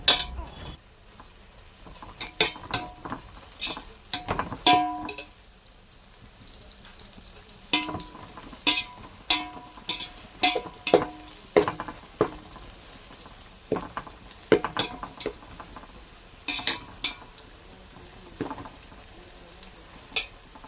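Onions sautéing with a pinch of turmeric, with tomatoes to follow, stirred in a pan: a long run of sharp spoon clinks and scrapes, spaced irregularly over a soft background sizzle.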